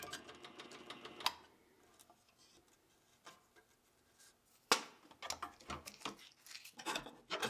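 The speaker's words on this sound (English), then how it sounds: "reverse tooth blade, which I like for this kind of cutting" A scroll saw fitted with a reverse tooth blade cuts small sound holes in a thin wooden harp panel, heard as a quiet, fast, buzzing rattle in bursts separated by short pauses and sharp knocks.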